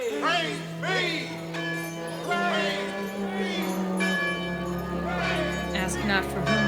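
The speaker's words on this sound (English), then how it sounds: "Ask not for whom the bell tolls." A bell tolls repeatedly in a theatrical puppet-show scene, its ringing overlapping with chattering, excited voices and some musical tones throughout.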